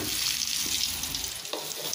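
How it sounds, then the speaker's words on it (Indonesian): Eggs frying in hot oil for tahu tek, a steady close sizzle with crackling pops throughout, no talking. "Goreng lagi hingga matang ya."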